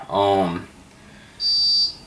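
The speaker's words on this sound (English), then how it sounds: "There's the beep saying it's aligned." A Meade LXD75 telescope mount gives a single steady high-pitched electronic beep lasting about half a second to confirm its alignment. The beep follows a brief burst of talk.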